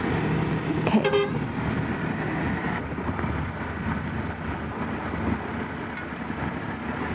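Short horn toots sound amid a steady roar of road traffic, trucks and wind buffeting on the dusty Trampolín de la Muerte road in Colombia, the honks brief and somewhat distant.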